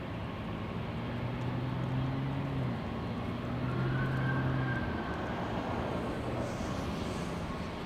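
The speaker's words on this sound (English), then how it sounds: "Let's go for the Delta takeoff." Delta Air Lines Airbus A321neo jet taking off from runway 24L at Los Angeles airport, a steady broad engine roar with low droning tones that swells midway, heard from a distance outdoors, with no talk.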